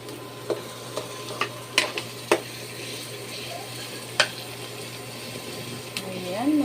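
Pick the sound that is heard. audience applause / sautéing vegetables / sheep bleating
sautéing vegetables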